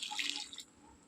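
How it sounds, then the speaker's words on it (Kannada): Water pours briefly into a pot of clam curry as a soft, close splashing trickle for about half a second, then stops, leaving quiet. "ಸ್ವಲ್ಪ ನೀರು ಹಾಕಿ"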